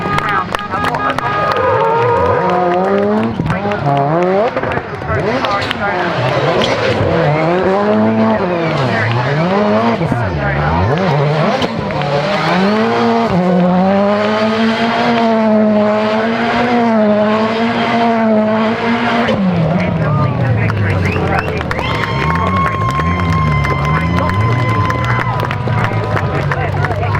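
Rallycross race cars, including a Ford Fiesta, roar at Croft Circuit, engines rising and falling through gear changes under continuous loud commentary and crowd noise.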